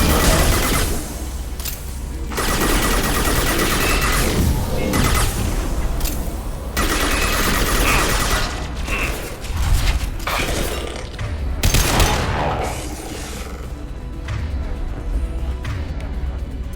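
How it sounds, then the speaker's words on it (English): Mass Effect 2 combat with dense, continuous gunfire, bursts and impacts layered over a loud sustained game mix, with occasional character voices. "Firing a high impact shot!"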